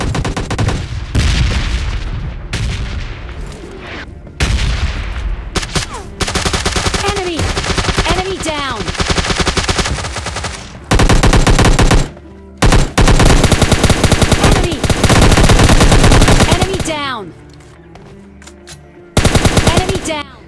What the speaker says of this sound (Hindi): यहाँ पर मेरे को आते हैं फायर शॉट्स के साउंड